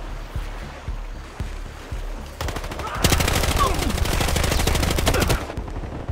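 Rapid automatic gunfire from Battlefield Hardline multiplayer on PS4 starts with a few scattered shots, then breaks into a long loud burst of dense, evenly spaced rounds before cutting off.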